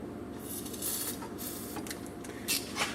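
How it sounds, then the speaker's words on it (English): Short hissing bursts of lubricant sprayed onto the threads of axle retainer nuts on a Dana D44/D35 axle, several quick spritzes over a low, steady background hum. "make sure we get a little bit of lubricant on the threads"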